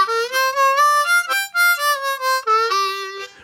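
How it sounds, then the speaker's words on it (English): A solo harmonica plays the minor blues scale as a short run of clear, separate notes, moving up and back down, close and bright with nothing else in the background. "And then we have the minor blues scale,"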